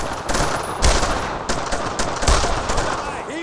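Sustained automatic weapon fire and rifle shots from the World War II video game Brothers in Arms: Road to Hill 30, loud and dense, with rapid overlapping bursts and no pause.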